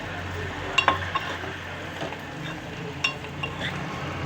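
Sun-dried onion fritters frying in a pan give a steady, close sizzle. Occasional clinks and scrapes come from a utensil stirring them.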